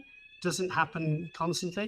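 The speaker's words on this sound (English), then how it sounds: "It's our normal fire alarm tests on the first Thursday of the month." During a monthly fire alarm test, a steady high alarm tone sounds continuously in the background while someone talks over it.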